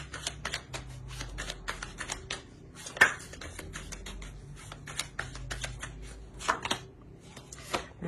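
Tarot cards are shuffled and drawn up close, making a busy run of crisp flicks, soft slaps and taps with one sharper snap partway through, with no voices over them.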